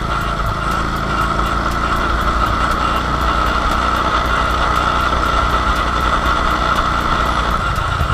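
A vehicle engine runs steadily and noisily at close range, a continuous loud rumble with an idling-like drone throughout and no talk.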